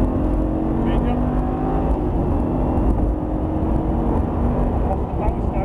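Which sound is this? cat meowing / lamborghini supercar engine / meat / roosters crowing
lamborghini supercar engine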